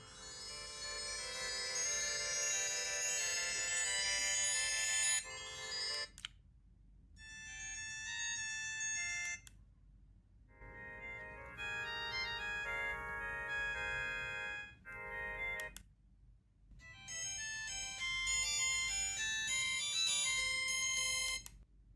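Ringtone Tone 2 on a phone plays loud and alone, a busy synthetic melody in repeating phrases separated by brief silences, like a tinkling electronic chime tune.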